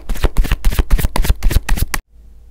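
Rapid riffle shuffling of a tarot deck, a dense run of crisp card flutters for about two seconds, close and loud, then stopping abruptly.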